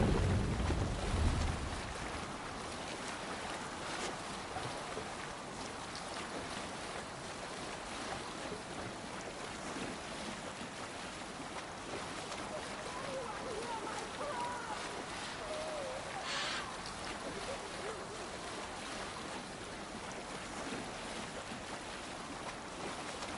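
Viking longship under sail in Assassin's Creed Valhalla, a steady wash of water and wind rushing past the hull, an opening thump, then constant moderate surf noise with faint creaks.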